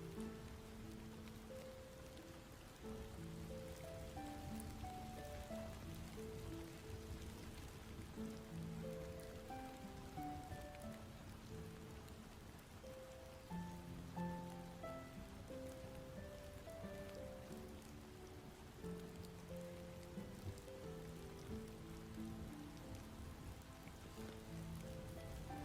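Gentle rain falls continuously in a soft, even patter on surfaces, heard alone and quiet, while a slow calm melody of soft notes drifts along beneath it.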